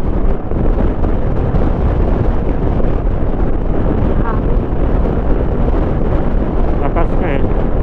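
Strong wind roars steadily into the microphone the whole time, a dense, unbroken rush of low buffeting noise.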